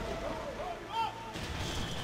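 Ship cannons firing a broadside in Sid Meier's Pirates! video game, a low muffled boom or two with rumbling tail, fairly faint beneath quiet game sound.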